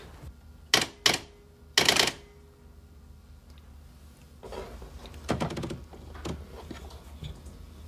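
Someone types on a typewriter in a detective's office, starting with a few loud, sharp strikes spaced apart and then moving into a softer, quicker run of key clacks. No one speaks.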